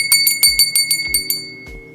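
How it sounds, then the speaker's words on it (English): A small bell rung during a live tarot reading, struck in a quick series of bright, ringing strikes with a steady sustained tone beneath, close and clear with no talk. "I just ring that bell for you"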